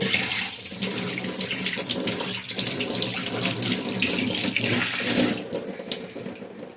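Water runs steadily from a tap into a sink while hands are washed, a close, continuous splashing hiss with slight shifts as the flow is disturbed.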